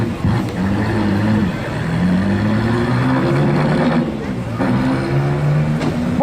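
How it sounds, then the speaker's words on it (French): Car edging very slowly onto a podium at a motor festival in Avignon, its engine idling and rising gently in short surges, close and fairly loud, with a voice talking over it. "il passe très doucement parce que sinon la voiture risque de toucher sur le podium."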